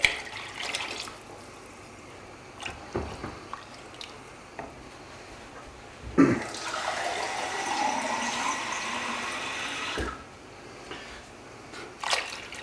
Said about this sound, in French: Je vais remettre un petit peu d'eau